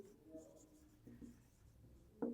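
A pen scratches faintly on paper while math is being written out, with soft, irregular strokes in a quiet room and one slightly louder scrape near the end.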